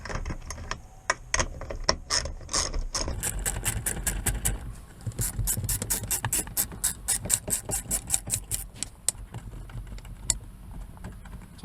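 A ratchet spins off 10 mm nuts on the rear backrest panel of a Ford F-150, with bursts of rapid close clicking pawl ratcheting repeated several times between brief pauses.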